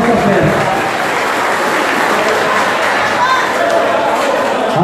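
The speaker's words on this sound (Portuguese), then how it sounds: "Gostaria que trouxesse ali uma salva de palmas por todo o empenho e dedicação" A crowd claps continuously at a church festival for Santos Reis, a dense, steady wash of applause with faint chatter mixed in.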